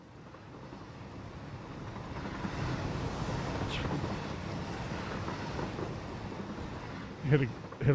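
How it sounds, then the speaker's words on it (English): Train arriving in the video game Satisfactory, a steady rumbling rail roll that swells and holds for several seconds, ending with a couple of sharper clanks. "comes the train"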